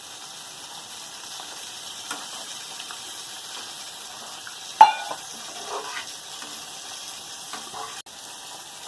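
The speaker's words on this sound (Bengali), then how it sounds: "এবার জল দিয়ে দিচ্ছি।" Water poured into a pan of frying potato and pointed gourd curry with prawns, a steady soft sizzle throughout with a brief sharp splash partway through, no talking.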